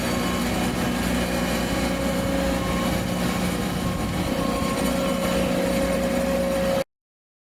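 The small engine of a remote-controlled boat lift hums steadily without pause, its tone holding even throughout before cutting off abruptly near the end.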